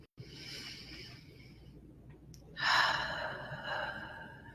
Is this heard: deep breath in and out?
yes